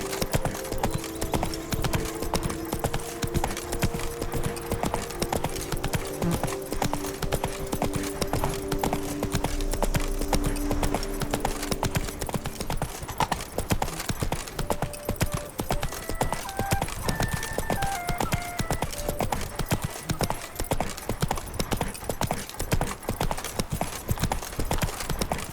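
Hooves of Roach, Geralt's horse in The Witcher 3: Blood and Wine, clopping in a steady trotting rhythm throughout, loud and continuous, with background game music and ambience.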